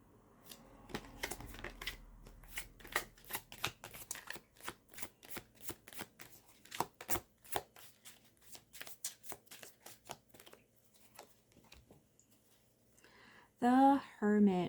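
Tarot cards are shuffled by hand, a long run of quick, crisp riffling clicks in uneven bursts that slow and thin out, with a brief voice at the very end.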